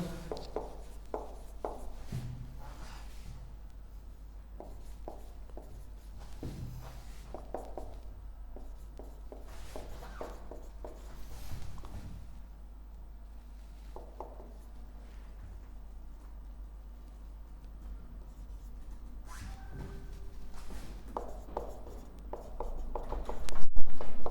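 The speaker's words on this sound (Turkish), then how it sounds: "Hemen bir örnek yazalım." Marker or chalk writing an example on a classroom board, intermittent scratchy strokes in short bursts with pauses between, over a steady low hum, with no talking.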